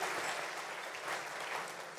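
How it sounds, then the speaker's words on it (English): Faint, scattered clapping from part of an awards dinner audience in a large room, a thin patter of hands heard from a distance for a couple of seconds. "We gonna get a clap for that one?"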